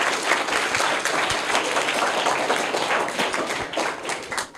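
A school audience applauds a child's correct quiz answer, steady dense clapping close by throughout, with no talk over it.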